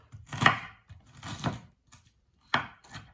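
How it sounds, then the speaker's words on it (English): Three knife chops through a medium onion on a wooden cutting board, each a solid close thunk with short gaps between, while the onion is cut into coarse pieces. "I am going to just coarsely chop it up"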